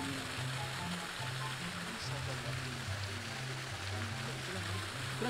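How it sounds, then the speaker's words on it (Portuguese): A waterfall pours out a steady, moderate hiss of falling water in the background while someone talks over it throughout. "A cachoeira aí, ó."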